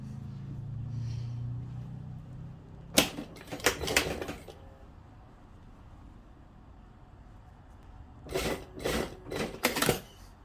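A sewing machine stitches along the waist of lined pants, running in two short bursts of rapid mechanical clatter separated by a quiet stretch, close and moderately loud.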